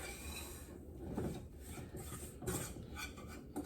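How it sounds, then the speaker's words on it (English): A whisk working the fat and dry ingredients of a roux together in a pot for a vegan gravy, giving soft, continuous scraping and rubbing with a few louder knocks against the pot, nearby and with no talking. "we're going to switch to a whisk. We're going to whisk all of this together."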